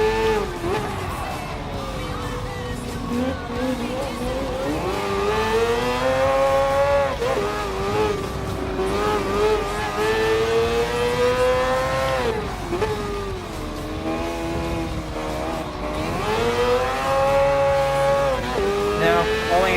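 Mazda 787B race car in the video game Gran Turismo Sport, its engine droning loudly and steadily with rising and falling pitch through gear changes and corners, while a voice talks over it.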